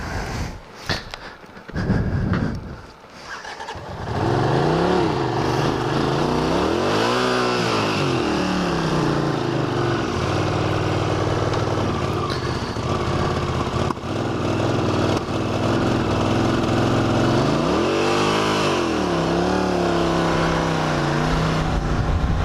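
A cold 1981 Honda CX500 motorcycle engine runs steadily up close, with a couple of revs rising and falling over its uneven idle and a brief sputter near the start.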